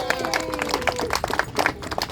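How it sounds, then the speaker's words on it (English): A crowd at a Juneteenth community gathering in New Haven claps and cheers briefly, with mixed, uneven clapping and a voice mixed into the noise. "Can we give a round of applause to our folks from the New Haven Parks Department for everything they do?"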